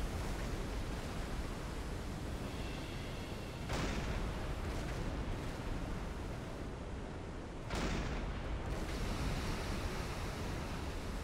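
Torpedo explosions tearing into a ship in the Silent Hunter 5 naval game: a steady, loud roar of rumbling noise with two abrupt, heavier blasts about four seconds apart and no voices.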